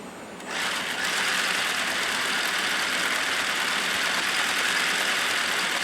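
Feiyue Desert Eagle RC truck with upgraded electronics running at quarter throttle, its motor rising to a steady, close, high-pitched whine that holds level for several seconds.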